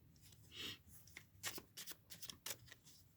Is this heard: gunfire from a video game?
no